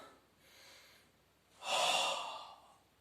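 A person breathes during a Pilates exercise: a soft inhale, then a longer, louder exhale through the mouth, close and clear with no talk over it.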